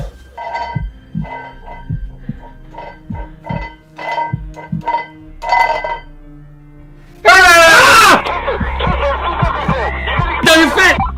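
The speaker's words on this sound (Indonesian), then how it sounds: "sosok itu benar-benar terlihat jelas banget dan langsung teriak ke arahnya si Parker" A loud, sudden monster scream from a horror video game, set in a basement, bursts out after a stretch of low throbbing thuds and sustained hum, with a harsh, wailing roar that lasts several seconds and fades.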